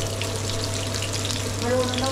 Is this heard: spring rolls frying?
yes